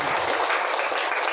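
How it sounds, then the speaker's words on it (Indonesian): Children in an elementary school classroom clap together at a teacher's request, a brief, busy burst of many small hands at close range. "tepuk tangan dulu yang meriah"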